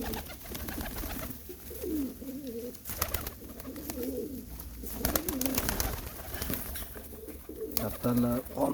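Pigeons coo in low, repeated throaty phrases at close range, with scattered wing flutters and rustling among the flock and a faint voice calling over them.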